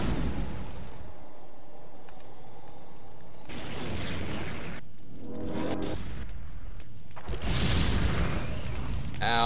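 Booming explosions from the I of the Dragon game as a town is bombed, several heavy blasts with crackling fire and rumbling debris, loud and close, with brief bursts of sound between them.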